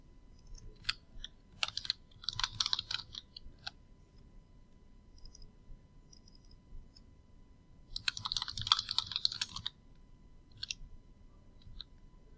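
Bursts of quick computer keyboard typing while editing a graph title in an Excel spreadsheet: two clusters of clicky keystrokes separated by a quiet pause, fairly close and soft.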